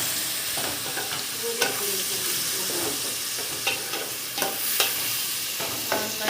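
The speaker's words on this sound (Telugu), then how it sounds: "ఇప్పుడు కరివేపాకు, కొత్తిమీర, పచ్చిమిరపకాయలు పేస్ట్ వేస్తున్నానండి. ఇది కూడా బాగా ఫ్రై అవ్వాలి." A paste of curry leaves, coriander and green chillies fries in a pan for a fish curry, producing a constant sizzle punctuated by intermittent scraping stirs; no talking.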